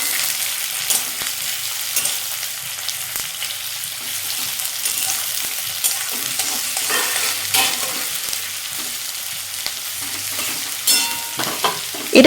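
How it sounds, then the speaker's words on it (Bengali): Chopped onions for doi chicken fry in a pan with a bright, steady sizzle while being stirred, scraping sounds rising now and then over the continuous crackle. "এবার এর মধ্যে পাঁচটি মিডিয়াম সাইজের পেঁয়াজ কুচো করে কেটে দিয়ে দিতে হবে পেঁয়াজটা যতক্ষণ না লাল হয়ে আসছে ততক্ষণ এটাকে কষিয়ে যেতে হবে"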